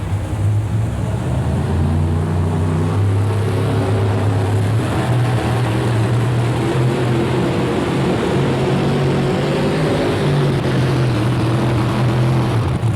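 A new Dodge four-wheel-drive pulling truck idles at the starting line of a 2000 NFMS truck pull in Louisville, Kentucky, its engine giving a steady, loud, deep rumble with a slightly rough tone that holds through the whole stretch.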